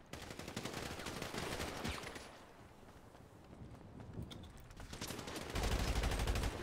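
Rapid gunfire from an online roleplay video game crackles in dense bursts, loud at first, easing in the middle, then intensifying again, with no speech over it.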